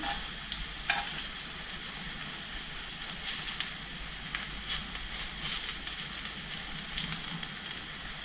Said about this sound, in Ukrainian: Смажу на невеличкому вогні до гарного золотавого кольору.